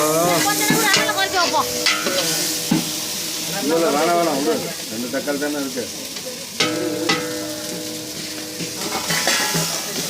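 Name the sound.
onion, tomato and cinnamon-clove powder frying for mutton sukka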